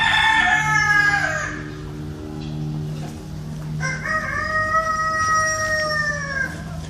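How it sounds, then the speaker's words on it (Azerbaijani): Chinese chickens and a rooster at a bird park in Iran. Two loud, close crows are separated by a short pause, with faint clucking and background chatter. "Bunlar da Çin toyuqları da balacalar, ha."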